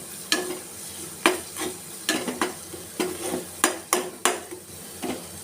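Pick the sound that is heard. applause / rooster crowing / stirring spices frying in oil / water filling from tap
stirring spices frying in oil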